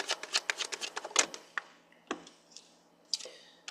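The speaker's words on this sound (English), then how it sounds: "And we have our third double deck shuffle" A double deck of tarot cards being riffle-shuffled, a quick run of crisp, close flutters and riffles that breaks into a few separate snaps and taps near the end.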